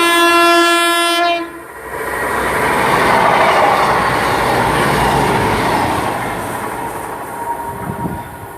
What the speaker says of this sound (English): we've now got a Plymouth to Dundee cross country service passing